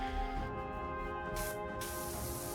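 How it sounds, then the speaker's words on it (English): Pressure washer spraying rocks in the video game PowerWash Simulator 2, a steady hiss of water over a droning background hum with a brief burst of louder spray. "nope, just spraying the rocks"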